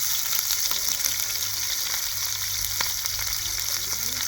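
Chillies fry in a pan of hot oil for a biryani, giving a steady loud sizzle with occasional scrapes and clicks as they are stirred.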